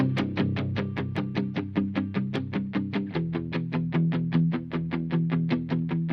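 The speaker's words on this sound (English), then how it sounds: "So I added some super simple chugging power chords" Distorted electric guitar chugs steady palm-muted power chords for a pop country track in a fast, even rhythm, with a brief change of chord partway through; no talking.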